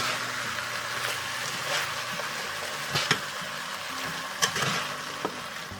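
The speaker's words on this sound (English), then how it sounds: "I'm going to just stir all this together really well." Bacon and rinsed beans are stirred together in a hot pot, a soft steady sizzle with a few scraping clinks of the spoon against the pot, close and continuous.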